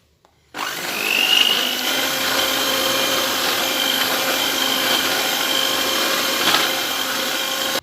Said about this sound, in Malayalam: എന്നിട്ട് വീണ്ടും ബീറ്റ് ചെയ്യുക. ഇനി പഞ്ചസാര പൊടിച്ചത് കുറേശ്ശെ ഇട്ടിട്ട് അതും ബീറ്റ് ചെയ്തെടുക്കുക.